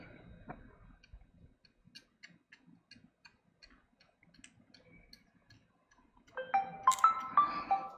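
A mobile phone rings nearby during a laptop repair, its bright melodic ringtone rising loudly after several seconds of faint, steady ticking clicks.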